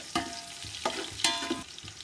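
Green chilli slits frying in oil with sliced onions for chicken biryani, a soft close sizzle punctuated by several rhythmic scraping stirs of a spatula in the pan.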